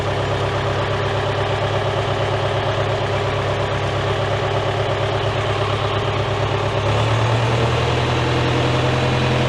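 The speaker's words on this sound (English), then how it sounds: "You hear the tractor bogging right there?" A David Brown tractor engine runs loud and close at a steady idle during a Selectamatic hydraulics test, then bogs near the end as its pitch drops and the load grows heavier, with no speech.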